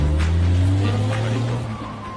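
A car engine rumbles close by with a steady low drone, pulling away over a couple of seconds.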